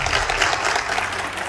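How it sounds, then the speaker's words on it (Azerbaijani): A quiz show audience bursts into applause, a dense, fairly close clapping that stays even across the short moment before tapering slightly. "Alqışlar"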